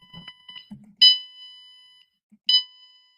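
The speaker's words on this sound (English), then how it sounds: "we're getting a nice steady beep there" Two loud beeps from a small electronic buzzer on a PiHut maker kit, the first held for about a second and the second shorter, after some quiet handling noise.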